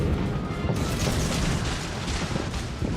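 Warship guns firing in the World of Warships naval video game, a dense continuous roar of booming blasts and rumbling explosions with no clear gaps, loud and close.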